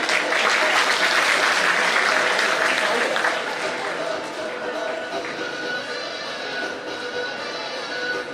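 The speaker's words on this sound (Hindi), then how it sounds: "और तालियों की गूंज कम नहीं होनी चाहिए।" An audience at an award ceremony for meritorious students claps steadily and loudly, a dense wash of applause that eases off slightly toward the end.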